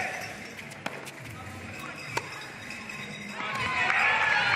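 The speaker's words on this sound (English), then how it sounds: "And you can already hear the crowd, right?" Arena crowd at an evening INTENNSE team tennis match, cheering and shouting as a broad, steady roar that swells louder toward the end, with a couple of sharp ball strikes popping through.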